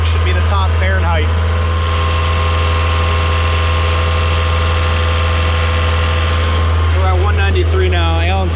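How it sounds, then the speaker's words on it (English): A boat's engine runs at high RPM on the Florida Intracoastal Waterway, a loud, constant low hum with steady tonal whine above it, while people talk over it at the start and end. "pushing the engine"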